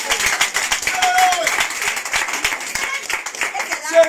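A church congregation claps and cheers for Jesus with steady, rapid, fairly close clapping throughout, while excited voices call out over it.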